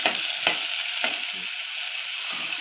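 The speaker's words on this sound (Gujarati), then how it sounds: "તો ચલો સુરણનું શાક નાખી દઈએ। થોડું હલાવી દેવાનું એટલે મરચાં ચોટી જાય।" Pieces of elephant foot yam curry are stirred into hot oil with fried garlic and chillies, sizzling steadily close up while a spoon scrapes the pan in a few short strokes, with no one talking.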